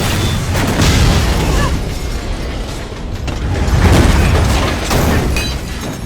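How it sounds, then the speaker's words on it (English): A series of car explosions produces loud, heavy booms that rumble and swell in overlapping waves, with rattling debris underneath. "a series of car explosions suddenly occurred."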